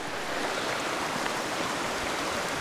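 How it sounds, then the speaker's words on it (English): Small waterfall cascades pour steadily, a dense unbroken rush of flowing water close by with no voices. "There are little cascades everywhere."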